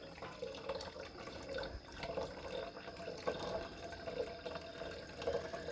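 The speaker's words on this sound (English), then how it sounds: "really pouring it in there, making all those bubbles, adding oxygen to it's not a good thing either" Homemade wine is poured vigorously into a vessel, a trickling, splashing stream with bubbling gurgles that come and go in soft pulses, close but fairly quiet with no talk.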